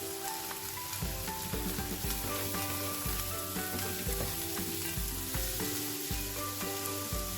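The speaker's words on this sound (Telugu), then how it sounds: "ఇప్పుడు చిన్నగా కట్ చేసుకున్న తోపుకూర వేయాలి" Chopped amaranth leaves frying in a pan with a dense, even sizzle and crackle, mixed with faint repeated clinks of stirring, no speech.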